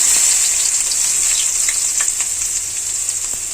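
Finely chopped onions hit hot oil with toasted cumin in a pan, giving a loud, steady crackling sizzle with scattered pops and no voices throughout.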